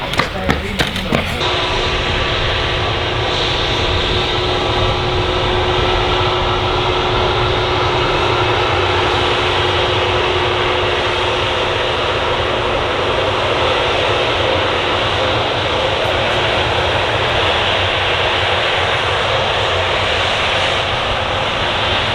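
A GlobeAir jet aircraft just landed at Manchester Airport, heard as a steady, loud engine roar with a sustained whining tone after a few sharp thuds at the start, continuing unbroken at a distance.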